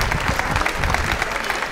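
Applause from a crowd gathered at the reopening and inauguration of a town square in Lucera, a brief, dense and loud burst of clapping without pause.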